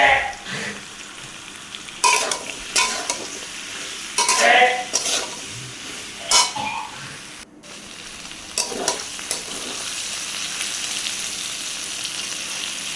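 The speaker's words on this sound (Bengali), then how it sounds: "ভেন্ডিগুলোকে ভেজে নেব" Okra sizzles in hot oil while a utensil stirs and scrapes the pan in irregular bursts, loud and close, with no voices.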